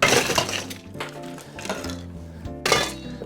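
Ice cubes clinking and clattering into a glass for a Bahamian sky juice cocktail, three loud rattling bursts with ringing tails, close by and without talk.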